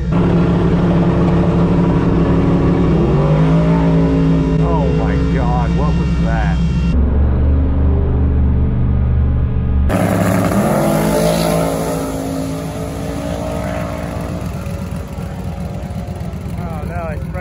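Drag race between a 1000 hp Tesla Plaid and a 1000 hp twin-turbo Camaro, with loud continuous engine and road roar that shifts abruptly partway through, running steadily under talk throughout.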